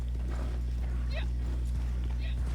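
Horse hooves clip-clop steadily in Red Dead Redemption 2, a soft regular patter sitting under a constant low hum and faint background sounds.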